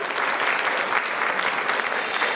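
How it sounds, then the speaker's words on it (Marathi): Studio audience applauding on a Marathi TV game show, a dense, even wash of clapping from many hands that holds steady and fairly loud throughout, without talking over it. "एकदा जोरदार टाळ्या होऊन जाऊ दे"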